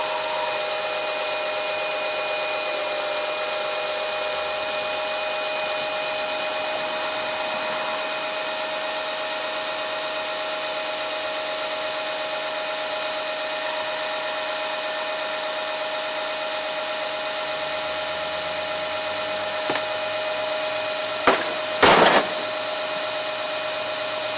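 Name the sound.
pump running while servicing a John Deere JS25 mower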